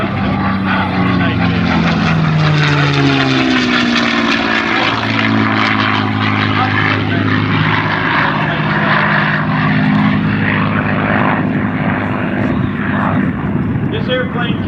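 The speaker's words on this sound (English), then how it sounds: "He's going to start out with a 4-point hesitation precision roll, stopping the airplane every 90 degrees." A P-51 propeller fighter drones loudly overhead through aerobatic precision rolls at an airshow, its engine note rising and falling steadily while a commentator talks over it.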